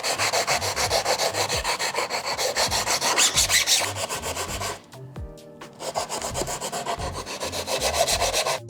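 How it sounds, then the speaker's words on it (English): Rocket fin edges for a high power rocket being sanded by hand, a steady close rasping rub in repeated strokes with a brief pause partway through, no voices. "And then I'm gonna sand all the edges of my"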